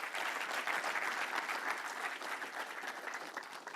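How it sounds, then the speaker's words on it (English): Audience applause after a conference talk on whether software will eat the world, a steady dense wash of many hands clapping at moderate volume, continuous throughout with no voices standing out. "Round of applause."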